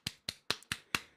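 Hands clap five times in a steady, evenly spaced rhythm, each clap sharp and close with a quick decay and quiet gaps between.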